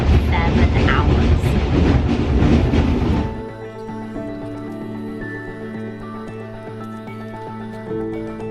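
A train in Vietnam rumbles along the rails, loud and roaring at first, then settling into a quieter hum with a steady clack of wheels over track joints.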